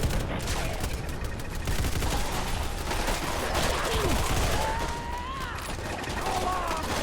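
Radioactive guns fire in Fallout 4 as ghouls are attacked: dense, continuous bursts of shots and crackling impacts fill the whole stretch, with a voice talking and a few whooshing effects mixed in.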